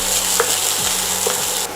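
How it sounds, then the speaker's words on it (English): Sprouts sizzle loudly in hot oil in a pan as they are stirred and sautéed, a dense continuous frying hiss with a few soft scrapes of the spoon, close up and without speech. "we're going to start stirring this and sauteing it so that all the oil"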